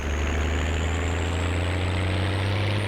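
Tractor engine in Farming Simulator 19, a steady low diesel drone with a constant hum and no talking, loud and unchanging throughout.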